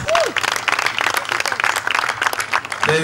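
An audience claps loudly and continuously to welcome a singer onto a stage, with dense close applause and some crowd murmur throughout.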